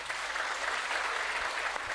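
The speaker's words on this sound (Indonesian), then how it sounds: "Tepuk tangan sik." An audience at an Islamic religious gathering claps together in a dense, even wash of applause, steady and fairly close for a couple of seconds with no talk over it.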